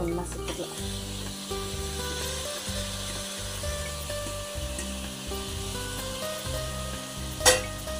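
Tomatoes, coriander and mint frying in a pan for chicken biryani, with a steady sizzle under repeated scraping and stirring strokes from a spoon, close by and fairly loud, and one sharper clink near the end.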